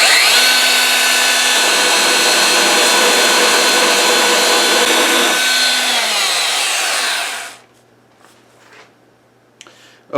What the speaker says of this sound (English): I'm going to use my belt sander to take care of a lot of this right here